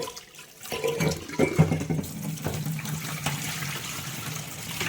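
Tap water running while tea cups and plates are washed in a sink, a continuous close stream with occasional light clinks of dishes.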